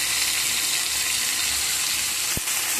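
Tomato, ginger paste, whole cumin and five-spice sizzle steadily in a frying pan as they are stirred, a continuous close hiss with one brief clink of the utensil near the end.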